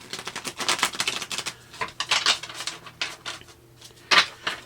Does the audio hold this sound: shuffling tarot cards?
yes